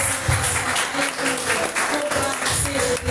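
A Pentecostal church congregation claps during a Sunday worship service, with dense, sustained applause mixed with faint voices and tones in the background.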